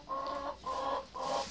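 Laying hens cluck in three short, close bursts, each a throaty sustained call separated by brief pauses.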